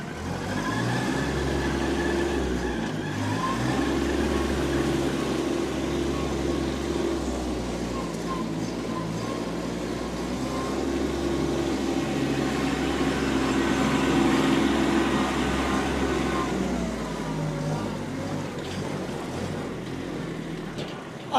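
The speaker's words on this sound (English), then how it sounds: "I like this little gear drive tractor." A 2020 Kubota B2401D gear drive compact tractor runs steadily with a low, constant engine drone, nearby and unchanging for a long stretch, with a faint mechanical clatter over it.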